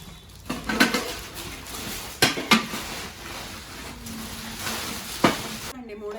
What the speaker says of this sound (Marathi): कुकर आता मी गोणीत भरते